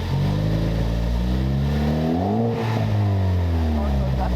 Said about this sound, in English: See, you can hear from back here all the rumbling.